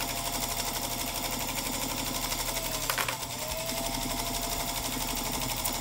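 A sewing machine running steadily at close range, a continuous fast mechanical whir and rapid ticking stitch rhythm throughout, loud and even, with faint voices barely present beneath it.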